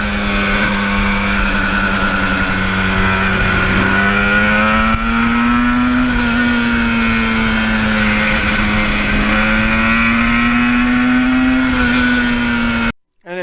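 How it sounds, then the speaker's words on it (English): A 1977 Yamaha RD400 two-stroke motorcycle, a Kenny Roberts replica, revs loud and near with a high buzzing note that climbs and drops as it shifts through the gears, then cuts off abruptly at the end. "it's just something iconic about the sound of a two-stroke going through the gears"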